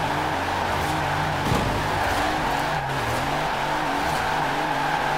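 Mercedes Unimog drifting around a roundabout in Forza Horizon 4, a loud, steady engine roar with sliding tyre noise and brief surges, held close and continuous with no talk.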